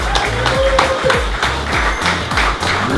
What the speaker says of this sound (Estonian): Mossa meestele ja naistele ka kõva aplaus